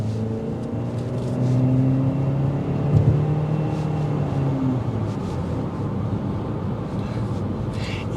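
A 2023 Mitsubishi Eclipse Cross SUV accelerating on a test drive, heard from inside as a steady engine hum and whir that rises slightly in pitch over several seconds, moderately loud and continuous.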